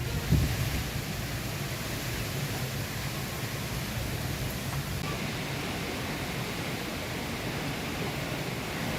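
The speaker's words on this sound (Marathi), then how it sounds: "वादळी वाऱ्यासह पाऊस झालाय" Stormy wind and rain in Pune city, heard as a steady, dense broadband roar that stays constant throughout, with no distinct individual gusts or drops.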